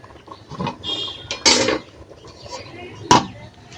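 A metal lid clanks onto a pot of khichuri cooking on a stove, two sharp clattering knocks among softer kitchen rattles, close and moderately loud.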